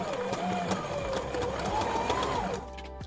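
A sewing machine runs a steady fast whirring stitch along the center seam of a fabric door draft stopper, close and continuous for about two and a half seconds before slowing to a stop.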